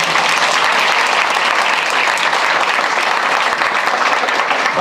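Steady, dense applause from a hall full of college girls at a farewell party, sustained loud and even throughout with no voices over it.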